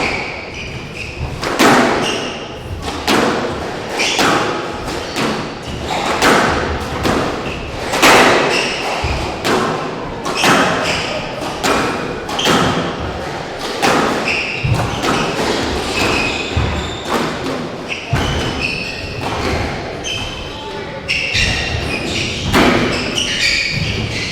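A fast rally in a professional PSA Challenger Tour squash match produces a long run of sharp, echoing ball thuds off the walls and racquets, with squeaking footwork in the court and crowd noise behind.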